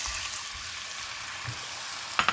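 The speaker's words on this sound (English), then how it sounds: "add our soy sauce and our water, and it's going to sizzle a little bit" Soy sauce and water sizzle and crackle steadily in a hot frying pan, a bright hissing fry throughout, with a short clatter of utensils at the end.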